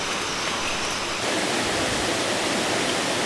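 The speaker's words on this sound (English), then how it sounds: "The stream becomes loud as it flows through the faster sections" Loud, steady rushing of a fast-flowing stream in Borneo, a dense broadband roar that swells slightly after the first second and continues without pause.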